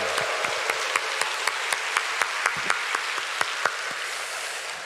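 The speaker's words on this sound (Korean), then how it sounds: "자, 마지막으로 하나님께 영광의 박수." Crowd applause at a Friday night church worship service, a steady wash of many hands clapping, sharper individual claps standing out at a regular beat, sustained and fairly loud throughout.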